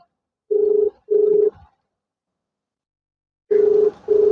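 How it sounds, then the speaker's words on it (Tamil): Telephone call being placed: a steady dial or ringback tone sounds in two short bursts, pauses for about two seconds of silence, then returns in two more bursts, with no talking. "ஓகே, ஃபஸ்ட்டு கால் பண்ணுவோம்."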